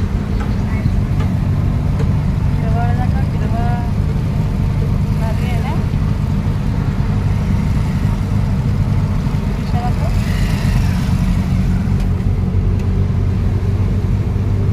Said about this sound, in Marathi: आता आम्ही रिक्षात बसलोय